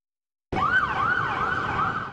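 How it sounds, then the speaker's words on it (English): A police siren starts abruptly and sweeps up and down steadily, loud and fairly close, escorting a bus leaving the White House grounds, with faint traffic rumble underneath. "With police sirens blaring, the bus carrying Republican senators back to the Capitol left the White House grounds"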